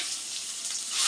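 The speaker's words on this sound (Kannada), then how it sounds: "ಚೆನ್ನಾಗಿ ಫ್ರೈ ಆಗಬೇಕು" Chili paste frying in hot oil for tomato rasam, a bright close sizzle that swells louder toward the end.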